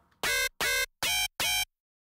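Hardstyle FM screech synth from FL Studio's Sytrus with a vocal-like tone sounds four harsh, bright stabs in an even rhythm after a faint lead-in, quiet overall and with no one talking, then stops.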